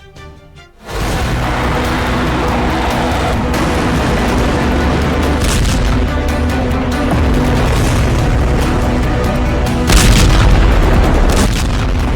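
Bomb explosions in a Middle East war strike with a sudden heavy boom, then a sustained loud roaring rumble, and another sharp burst comes near the end.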